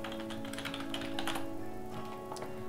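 Rapid keystrokes on a computer keyboard as a title is entered, a steady run of light clicks over a faint electronic hum, close and alone.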